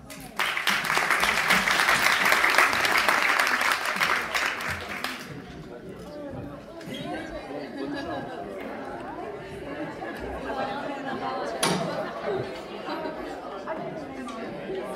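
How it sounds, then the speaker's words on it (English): An audience at a Cambridge arbitration conference applauds the panel speakers in a loud burst lasting about five seconds, then the room settles into murmuring chatter and people talking. "a round of applause to our panel speakers"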